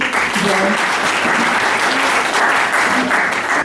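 Dense, loud applause fills an annual general meeting hall, a continuous wash of many hands clapping at steady strength, with faint voices mixed in underneath.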